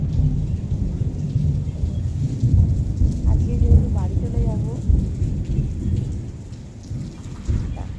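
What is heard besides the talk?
thunder and rain at dawn in Puri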